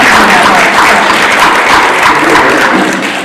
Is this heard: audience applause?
yes